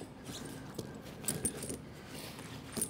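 Tire chains on a truck tire jangle and clink as they are pulled tight, faint metallic rattles in short bursts close by, with no one talking.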